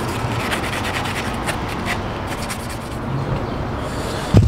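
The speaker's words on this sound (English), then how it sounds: "Scuff it up so easier for the paint to stick onto the plastic." Steady scuffing of a plastic intake boot on an E90, prepped by hand so paint will grip, a continuous close rubbing scrape with faint rhythmic strokes throughout and one brief knock at the end.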